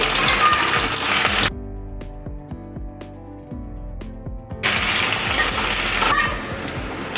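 Long-sliced onions sautéing in a pan with curry leaves for Maharashtrian pithla. A steady close sizzle at the start and end is interrupted by a stretch of music in the middle, with no talking.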